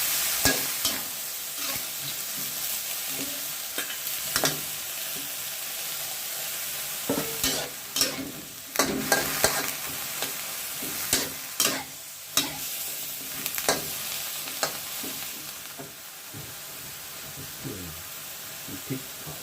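Mixed vegetables stir-fried with instant noodles in a hot pan: a constant sizzle broken by repeated scraping and clattering of the utensil against the pan, close up, with occasional faint talk.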